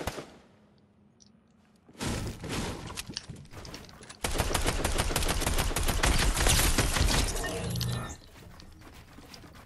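Fortnite gunfire shooting down player builds: a loud sustained barrage of rapid shots with shattering impacts, in two dense stretches after a quieter start, then fading back down.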